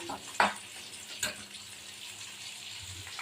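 Something fries quietly in a pan while a moong dal and katla fish head dish is cooked, a soft continuous sizzle broken by two brief utensil clicks.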